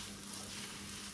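Tomato puree frying in a little oil for a Jamaican mackerel dish, a soft, even sizzle, quiet and close, with no speech.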